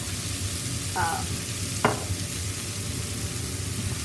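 Onions frying in olive oil in a pan with mushrooms, a steady close sizzle with a couple of brief utensil scrapes.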